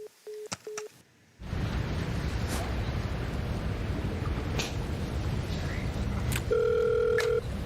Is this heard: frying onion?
no